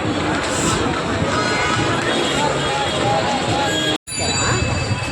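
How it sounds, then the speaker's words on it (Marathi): Busy Dadar market in Mumbai with a thick crowd, giving a constant blend of voices, movement and street noise close around, broken once by a short gap near the end. "हीच आहे गर्दी मुंबईची"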